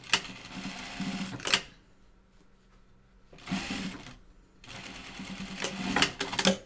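A sewing machine runs in three separate bursts, stitching a fabric mask tie. The motor whirs and the needle clatters in short passes with quiet pauses between them.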